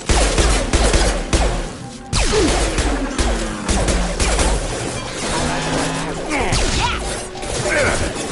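Rapid bursts of gunfire tear through a fight with hostile mechs in Mass Effect 2, mixed with crashes, impacts and mechanical whooshes, loud and chaotic throughout.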